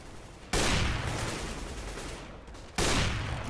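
Desert Eagle shots in Counter-Strike at a DreamHack qualifier match on Mirage: two loud, sharp bangs about two seconds apart, each followed by a long ringing decay over a background of game noise.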